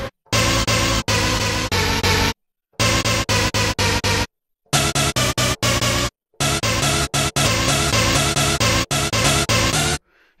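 A rave techno preset on a Rave Generator synth plays loud, dense, buzzing stab chords in rapid rhythmic bursts, broken by a few brief silent gaps, with no voices.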